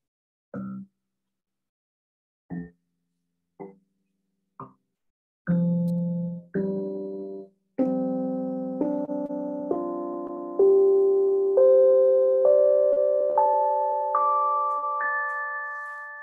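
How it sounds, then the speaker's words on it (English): Single plucked notes climbing step by step up an Aeolian minor scale, sparse at first, then sustained and ringing as each higher note follows. "It's just an Aeolian scale."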